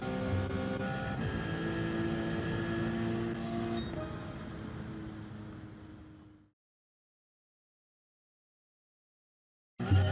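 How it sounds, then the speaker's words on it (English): In a racing video game, a Porsche race car engine over-revs at the race start with a sustained, buzzing tone for several seconds before cutting off abruptly into silence. A brief burst returns at the very end. "race 2, and straight away off to an unfair start. Car is literally just over revving"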